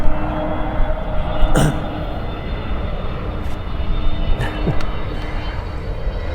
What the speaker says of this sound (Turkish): Uçak geliyor yine arkadaşlar ara ara geçebilir.